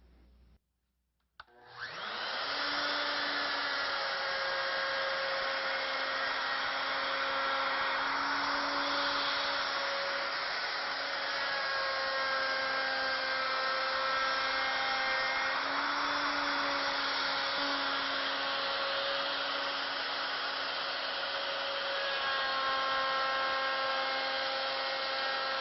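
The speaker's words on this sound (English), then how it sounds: "So I'm going to move the router off to the side a little bit, and then we'll make a cut" A router cuts wood for a jewellery box, a steady high-pitched whine that starts abruptly after a moment of quiet and holds loud and constant, with slight pitch wavers, alone without talk.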